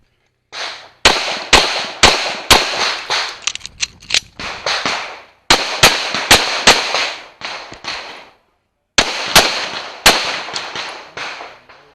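Pistol shots at an IDPA shooting match stage in a state championship, loud sharp cracks fired in three rapid strings of several shots each with short pauses between strings, ringing echoes after each, no talking.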